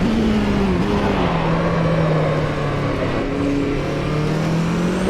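A race car engine drones loud and steady in a racing sim driven with a Fanatec ClubSport shifter, its pitch dipping slightly and then climbing again as it works through the gears, with no talking.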